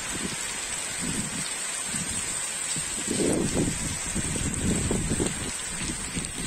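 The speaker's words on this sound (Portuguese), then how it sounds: "Já chegou mais chuva para nós." Rain falls steadily as a dense, even hiss with soft drips and low rumbling patter on nearby surfaces, close and continuous with no voices.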